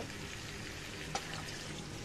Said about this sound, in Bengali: এখন আমি পানিটা দিয়ে দেব।